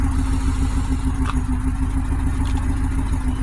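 Pontiac Grand Prix GXP engine running rich at its first start-up after sitting abandoned, with a mouse nest burning off in the exhaust: a steady, close, loud idle with a low rumbling drone and light clatter, no voices.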